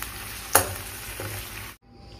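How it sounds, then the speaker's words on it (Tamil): Ginger, green chilli, mint and coriander sauté lightly in oil, giving a soft steady sizzle with one sharp clatter near the start before the sound cuts off abruptly. "இதை இஞ்சி பச்சை மிளகாய் புதினா கொத்தமல்லி இதை லைட்டாக நம்ம இப்போ வதக்கி எடுத்துக்கலாம்"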